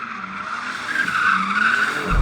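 A BMW M4 Competition drifting on track, with a loud sustained tyre squeal that wavers in pitch over the engine's low rumble, and the engine noise swells toward the end.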